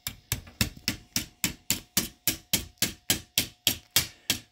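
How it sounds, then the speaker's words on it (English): A small hammer tapping a tool along the slot to lift rotten old rubber spline out of a window screen frame: about fifteen sharp, evenly spaced close taps, each ringing briefly. "just use that to push it along with a little hammer"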